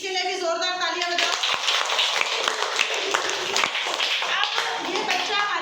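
Children clap loudly together in a classroom for a girl volunteer, a dense burst of hand claps running steadily throughout, with a voice briefly at the start.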